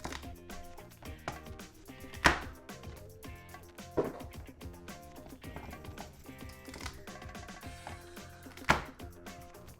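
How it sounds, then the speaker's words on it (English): A knife chops the ends off celery on a cutting board in several sharp taps with a few louder cracks, set against a busy background with no speech. "we're just gonna cut the ends off real quick"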